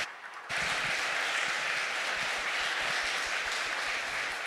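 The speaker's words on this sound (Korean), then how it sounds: "우리 목사님께 감사의 박수 드리겠습니다" A church congregation applauding the pastor: a sudden swell of sustained, dense clapping from a large crowd that stays loud and even throughout.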